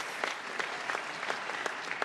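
Audience applause at a ministerial political speech: a steady, dense wash of many hands clapping, close and fairly loud, with sharper individual claps standing out throughout, and no voices.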